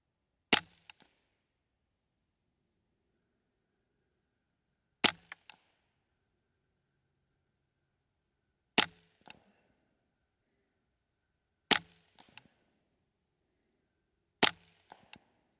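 Five sharp gunshots from a custom 10-22 rifle fired at a target, each a crisp close crack spaced a few seconds apart, followed by faint ringing clinks, with near silence between shots.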